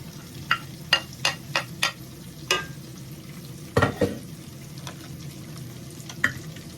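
Onions, ginger and garlic saute in a pot, a soft low sizzle punctuated by a quick run of sharp spoon knocks, then a few heavier stirring scrapes and a final clink.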